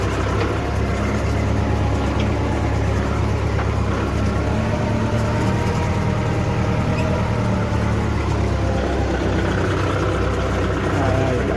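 A Mahindra tractor engine runs steadily up close on a farm, a loud continuous low rumbling drone throughout, with someone talking over it.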